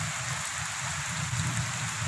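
Steady rain falling over a village, a continuous even hiss without any voices, close and moderately loud throughout.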